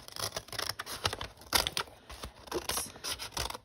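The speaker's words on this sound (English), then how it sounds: "So what I'm going to do is I'm just going to cut it right along here." Scissors snip through paper in quick, uneven cuts, each with a crisp scratchy rasp, close and fairly quiet with no talking, while a paper belly band is being cut for a craft project.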